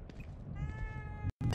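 A cat meowing in the video game The Evil Within 2, one short drawn-out meow, fairly near, over low background noise, cut by a brief silence near the end.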